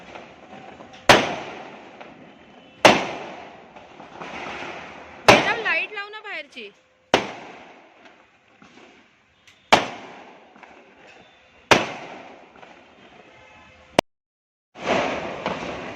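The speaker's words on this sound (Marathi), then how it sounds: "आपल्या इथे फटाके फुटतात" Firecrackers burst outdoors during a Diwali-like celebration, a series of sharp loud bangs spaced a second or two apart, each followed by a fading crackle, with one whistling rocket among them and people talking in between.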